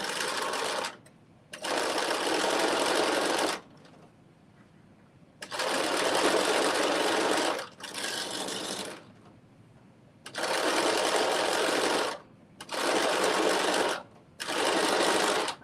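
Sewing machine running a second line of stitching a quarter inch from the edge to form a casing, in several loud close bursts of steady whirring separated by brief pauses.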